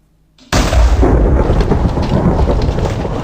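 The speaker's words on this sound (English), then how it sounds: "We used to have a lot more lightning on here." In the video game Last Asgard, a thunderstorm bursts in suddenly after near silence: a loud, sustained rumble of thunder with rain noise fills the rest of the clip, close and heavy, with no talking.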